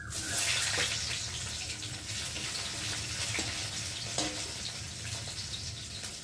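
Onion dropped into hot oil over a fried tempering for a masoor dal tadka, a dense bright hiss that swells at first and stays steady, with a few faint clinks and no talking.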